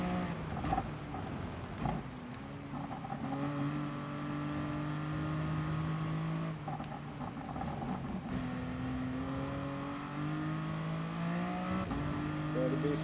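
Race car engine in a sim racing game at Spa, revving and accelerating in sustained rising and falling pitch sweeps with gear changes, loud and continuous throughout.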